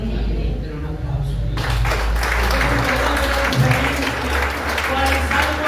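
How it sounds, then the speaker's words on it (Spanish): Church congregation applause, a sustained wash of many hands clapping over a strong low hum, with a voice or music briefly audible beneath, loud and continuous throughout. "Den un aplauso."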